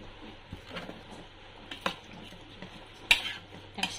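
Chicken adobo is stirred in a pot: quiet, sparse clinks and scrapes of a utensil against metal over a faint low simmer, close by with no talking.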